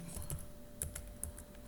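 Quiet clicks of typing on a computer keyboard, a handful of irregular keystrokes spaced apart, close by and faint, with no talking.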